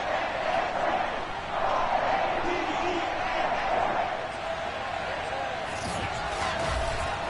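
Baltimore stadium crowd cheering in an American football video game, a steady, distant roar of many voices that fills the background while a commentator talks over it.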